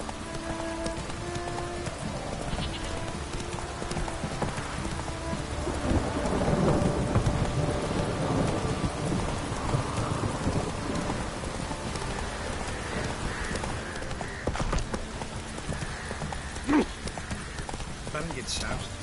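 In The Witcher 3 video game, a horse's hooves clip-clop steadily through a rainy thunderstorm, with rain hissing on the ground and thunder rolling underneath while a voice talks at times.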